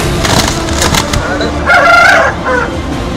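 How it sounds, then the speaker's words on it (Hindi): Roosters being readied for cockfighting before the Pongal festival in Ramanathapuram, Tamil Nadu, loud close crowing and clucking in several calls, with a little noise in the background. "इन मुर्गों को लड़ाई के लिए तैयार किया जा रहा है।"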